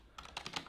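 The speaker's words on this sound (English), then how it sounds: "I'm saying this and typing it" Computer keyboard typing, a quick run of crisp, close key clicks in an irregular rhythm, fairly quiet and with no voice over it.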